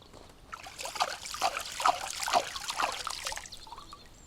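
Water splashes and trickles over a fishing reel spool wound with 40-pound braided line, a soft irregular patter of small wet drips lasting a few seconds, close and fairly quiet.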